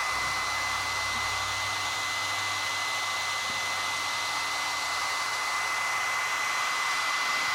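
A blow dryer runs in a steady, continuous roar while heating the glass corner of an iPad 3G to loosen the digitizer, close and unbroken throughout with no speech.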